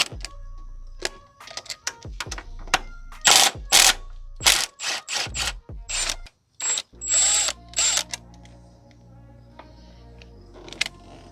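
Rapid ratchet clicks come in repeated loud bursts as a wrench loosens two 10 mm bolts on a 1985 Merkur XR engine, close by, with sharp pauses and a quieter mechanical tail.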